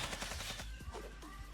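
Quick bursts of cartoonish gunfire from the battle game Zooba, several rapid shots crackling in a short volley against busy game noise.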